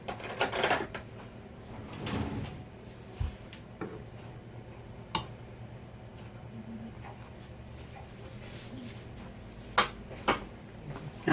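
Cutlery rattles and clinks as someone rummages for a spoon during holiday giblet gravy cooking, with bursts of metallic jangling at the start and again near the end, along with a drawer-like knock, over a quiet background hum.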